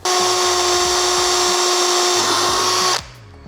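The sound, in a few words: drilling holes with a power drill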